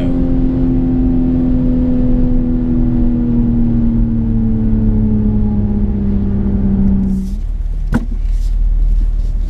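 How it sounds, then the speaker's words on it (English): A 2019 BMW Z4 M40i, carrying the Supra engine, pulls hard from first gear with a loud engine drone climbing steadily for about seven seconds, then a sharp shift as the note drops and settles at a lower hum. "amazing start from first gear"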